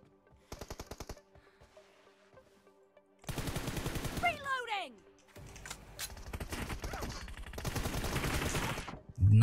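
Gunfire in PUBG Mobile, with rapid automatic bursts and clipped shots in short clusters, some distant and faint, others louder and sustained, under a voice talking.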